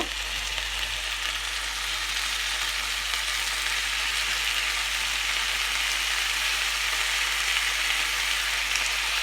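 Restaurant-style chicken boti kebab pieces frying in a pan on a stovetop burner, a steady, loud, even hiss of oil that holds without pause from start to finish.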